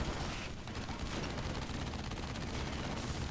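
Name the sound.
sentry turrets firing in AirMech Strike video game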